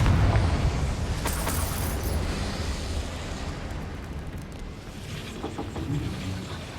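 Confringo fire spell blast from Hogwarts Legacy: a deep, sustained rumbling roar with crackling bursts, loud and close, slowly fading over several seconds without talk.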